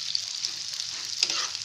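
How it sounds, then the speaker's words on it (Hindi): Chickpeas stirred and fried in a pan, a steady bright sizzle with a few soft scrapes of the spoon, close and fairly loud throughout. "अब हम इसमें जो हमारे चने हैं उसे मैं ऐड कर देती हूँ इस तरह से। इसे अच्छी तरह से मिक्स कर लेना है"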